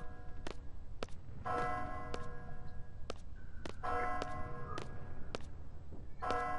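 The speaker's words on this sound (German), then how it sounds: "Die Glocke läutet." A bell ringing in Final Fantasy 8, with sharp repeated strikes followed by bright ringing tones that sustain and overlap, steady and fairly loud with no talk.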